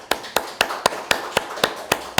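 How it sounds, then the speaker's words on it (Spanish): Slow, evenly spaced claps, about nine sharp strikes, ring out in a church Bible study group applauding a sister; the claps sound sparse and fairly near, as if only a few hands are clapping. "un aplauso para la hermana María"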